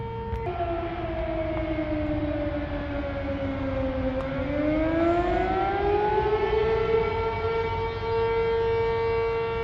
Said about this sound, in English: It didn't go off for too long, that siren.